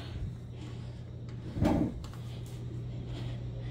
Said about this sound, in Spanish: a mover la silla a su lugar.